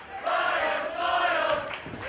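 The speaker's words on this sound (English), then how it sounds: "You hear the crowd chanting for Ryan's smile" Wrestling crowd at an OTT ladder match with Pete Dunne, Ryan Smile and Jigsaw, chanting loudly and rhythmically for Ryan Smile in two swelling bursts of massed voices.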